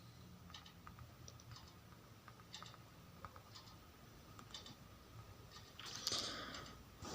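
A name typed on a computer keyboard set to Arabic: faint, quiet keystrokes in irregular bursts over a steady background hum, ending with a slightly louder click.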